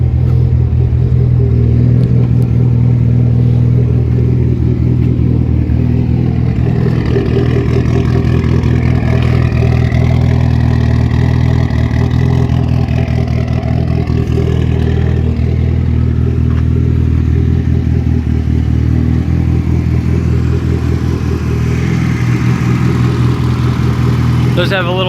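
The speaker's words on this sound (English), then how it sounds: "Little anti-lag for you," Mitsubishi Evolution X open-class rally car with anti-lag, held in neutral and revved steadily for a long stretch, the loud engine drone and boost popping staying close and constant throughout.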